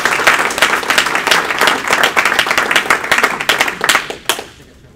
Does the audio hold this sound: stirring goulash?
no